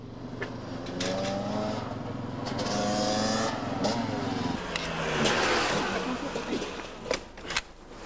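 A motorcycle engine approaches and revs, a steady mid-pitched drone rising in pitch and loudness before shifting gears, with people talking nearby over it.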